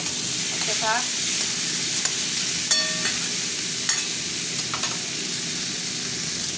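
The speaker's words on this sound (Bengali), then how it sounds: "পেঁয়াজের সাথে ভাজবো, আর সাথে টমেটোটাও দিয়ে দিলাম।" A continuous loud sizzle of onion and tomato frying in a pan, with occasional clinks of a utensil stirring.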